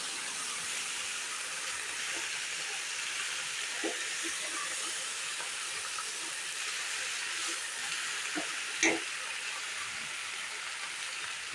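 Ginger frying briefly in a pan while being stirred: a continuous broad hiss of hot oil with a few faint clicks and scrapes from stirring, steady and moderately loud.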